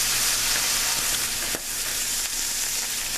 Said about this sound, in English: every couple minutes for the next 5 minutes, we're going to keep stirring up the mushrooms